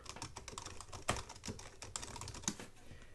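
Fingers type steadily on the worn keyboard of a PowerBook G4 laptop, a quiet, close, continuous patter of key clicks with a few firmer taps standing out.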